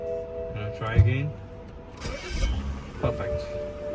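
Car engine cranking and catching after a fuel pump module repair, a starter whir followed by the engine firing, then a brief rev and a second rev, with an irregular rumble; a tonal hum is also present, fairly close.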